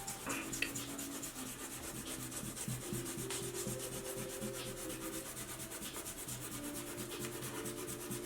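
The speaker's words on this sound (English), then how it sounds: "I'm using my kneaded eraser now to create that ghost line." A kneaded eraser rubs across drawing paper in a continuous soft, dry scrubbing with faint rhythmic strokes, quiet and close, with faint background music and no talk.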